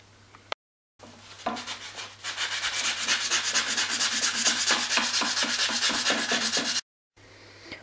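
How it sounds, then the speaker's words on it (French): A wooden arrow is rubbed with a sanding stick in quick, rhythmic back-and-forth strokes, a close, steady scratchy rasp lasting several seconds with no talk. "Et maintenant vous allez finir avec votre canne à poncer."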